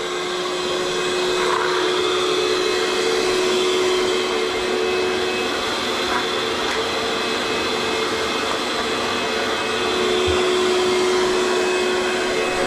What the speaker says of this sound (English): will go around and vac it out